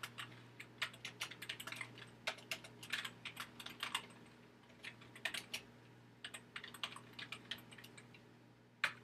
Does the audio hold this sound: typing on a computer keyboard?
yes